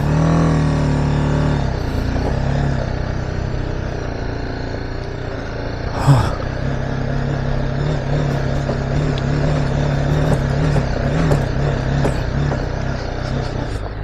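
An off-road vehicle engine labours and revs steadily while climbing a rough dirt hill in Spiti, a continuous loud drone with a brief louder burst midway, and faint voices appear underneath.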